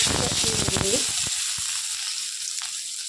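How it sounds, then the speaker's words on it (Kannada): Onion fries in a hot pan with a loud, close hiss and crackle, with a brief clatter of stirring at the start before the sizzle settles into a steady, quieter fry. "ಈರುಳ್ಳಿ ಸ್ವಲ್ಪ ಫ್ರೈ ಮಾಡುವ"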